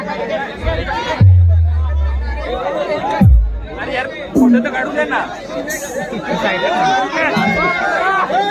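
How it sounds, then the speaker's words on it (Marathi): A huge crowd chatters at a haldi ceremony during a wedding, a loud, dense babble of many voices with occasional bangs and thuds mixed in. "प्रचंड गर्दी आहे हळदी समारंभ प्रसंगी"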